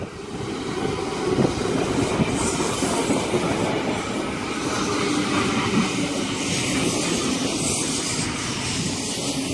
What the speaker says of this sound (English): We should have a Campbelltown service arriving on platform number 2 at Casula.